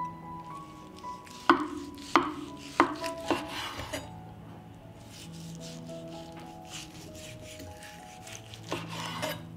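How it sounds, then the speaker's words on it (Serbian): A smoked chicken leg chopped on a board, a run of sharp knife thuds early on, then quieter rubbing and a couple more hits near the end, close and clear. "Dok čekam da voda proključa, iseći ću jednu dimljenu butkicu."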